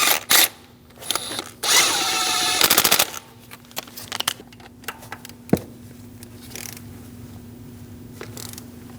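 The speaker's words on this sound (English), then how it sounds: "Get the bolt installed, get it started by hand, and snug it down." A ratchet or small power tool snugs down the camshaft position sensor bolt on a Dodge Durango, with short bursts of rapid clicking and whirring followed by scattered metallic clinks and handling noises, close up.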